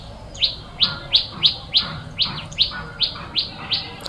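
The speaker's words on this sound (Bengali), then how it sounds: "কোনো পাখির শব্দ ছাড়া আর কোনো শব্দ নাই" A single bird chirps repeatedly in an even rhythm, about a dozen sharp high calls against a quiet background.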